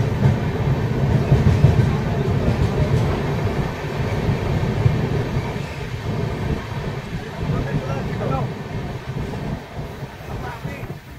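The Bhubaneswar–Howrah Jan Shatabdi Express pulls out of Balasore station with a steady, dense rumble and rattle of rolling coaches heard from on board, alongside wind noise and faint talk.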